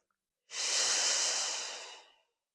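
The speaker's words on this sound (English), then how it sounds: "And again, inhale. Exhale." A single slow pranayama breath during yoga practice, a long steady airy rush lasting under two seconds, close and clear, swelling quickly then easing off gradually into silence.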